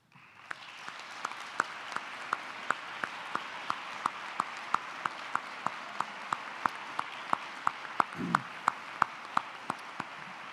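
An audience at a University of New England awards ceremony applauds honored students with a steady, even wash of clapping that lasts about ten seconds. Distinct individual claps ring out regularly above it.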